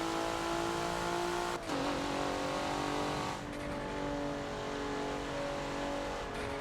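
A race car in Forza accelerating along Road Atlanta, a loud sustained engine whine climbing through the revs with a gear change partway through, up close and with no talking.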